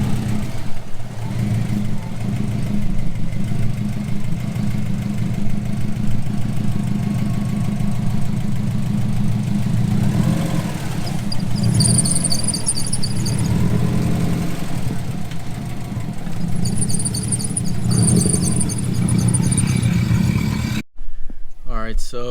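A 2006 Subaru WRX drives along with a steady engine drone and a persistent noise from the rear wheel, continuous and fairly loud throughout, with a few brief high chirps and people talking over it.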